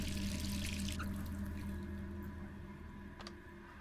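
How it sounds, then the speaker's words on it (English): A tap running into a sink in Resident Evil 3 Remake, a steady splashing stream that fills the room, loud at first and easing slightly, with a small clink near the end. "The water is running."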